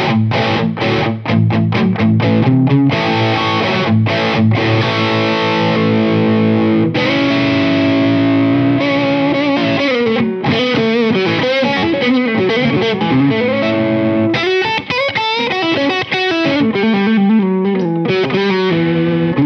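A cheap 335-style electric guitar is played through heavy distortion with effects, loud riffs and ringing chords shifting across a long unbroken passage, with no voices over it.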